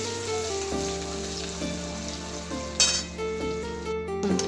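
Ginger garlic paste sizzles in hot oil with curry leaves and asafoetida for a potato bhaji: a steady, moderate frying hiss runs throughout beneath soft background music.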